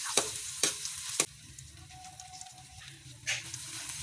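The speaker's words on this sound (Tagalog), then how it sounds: "Then, lalagay ko na yung garlic. Gisa-gisa lang natin yung mga mare." Garlic sautés in butter and oil in a pan, giving a steady, soft sizzle with a few sharp stirring scrapes near the start and again toward the end, close and moderately quiet.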